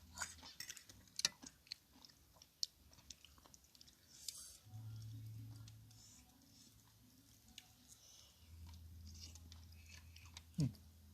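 Close, quiet crunchy chewing of a spicy salad of blanched golden needle (enoki) and eryngii mushrooms, with soft bites and squishy mouth sounds scattered over a near-silent background.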